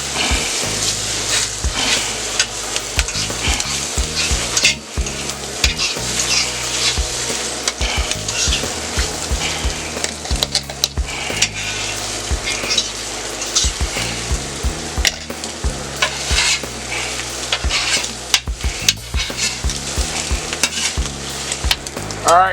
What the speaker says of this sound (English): All my ingredients, my onions and my sausage and my potatoes are all done. So I'm going to incorporate my eggs here.